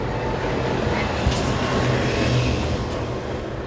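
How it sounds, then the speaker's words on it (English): Dump trucks loaded with volcanic ash driving past near Japan's most active volcano, a loud, continuous engine rumble and road roar from close by, heard without talk. "So many dump trucks, every single one of them just filled with ash."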